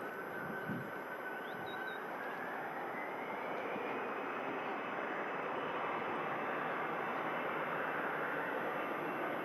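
An EasyJet Airbus A320 rolling down runway 05 left at Manchester Airport, a broad steady engine roar that slowly builds and rises in pitch, heard from a distance and continuous.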